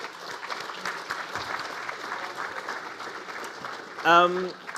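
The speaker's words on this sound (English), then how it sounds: "can I ask you to give a round of applause and welcome our panelists?" An audience at a PAX AUS esports panel claps steadily to welcome the panelists, a soft, even wash of applause, with a brief louder voice cutting in near the end.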